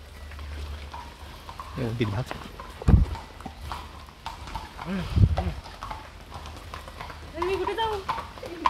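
Horse hooves clip-clop on hard ground in an uneven rhythm at Matheran, India, with a few heavier thuds, while people talk nearby over outdoor background noise.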